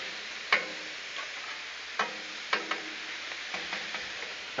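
Ground meat browns on a Blackstone griddle with a steady, close, hissing sizzle, broken by a few sharp scraping clicks of a spatula at irregular intervals, with no voice.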